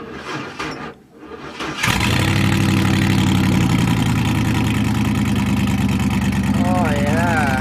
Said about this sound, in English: Cold start in the snow.